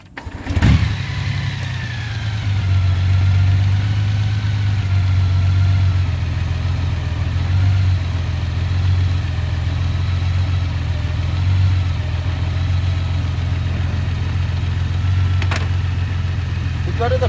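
A 2018-or-later Honda Gold Wing motorcycle with its right tie rod missing starts up and runs at low speed. A steady, close engine drone with a low throb holds evenly throughout.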